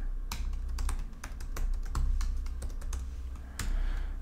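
Keys clack in quick irregular bursts on a computer keyboard as code is typed, close and steady with short pauses, over a low constant hum and no talking.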